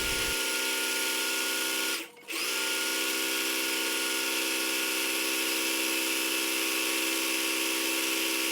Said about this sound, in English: I'm gonna go over it with a straight stretch stitch on my sewing machine